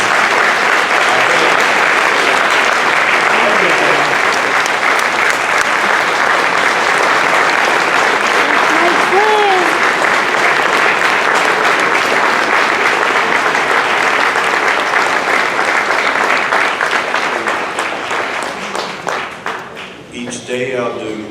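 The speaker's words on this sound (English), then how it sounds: "Shall we together give him a round of applause?" A large audience applauds Jack Evans Jr. during special remarks on behalf of the Evans family, a dense, loud, sustained wash of clapping that holds steady for a long stretch before thinning out near the end.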